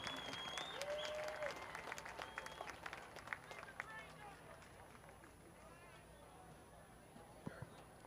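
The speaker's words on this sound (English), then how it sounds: "give a big round of applause for Doug Hennessy" A speedway grandstand crowd at Birch Run Speedway applauds a driver climbing out of his car after a win, the clapping fairly faint and distant, mixed with announcer voices and fading toward the end.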